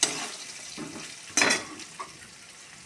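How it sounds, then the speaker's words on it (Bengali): Chopped ginger frying in hot oil in a pan for a broccoli curry, a steady close sizzle with a sharp burst of spitting and a few stirring clinks over under three seconds. "আদা দিয়ে একটুখানি আদাটাকে ভাজা ভাজা করে নেব।"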